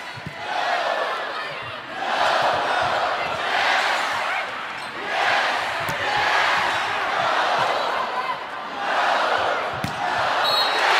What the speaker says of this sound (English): Tradition here at Florida, when they've got set point, that's what you're going to hear. Yes, yes on the Florida contacts.